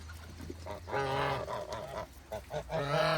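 A pilgrim goose honks repeatedly in a higher-pitched voice, loud and close, with overlapping honks from the flock and a deeper goose call mixed in.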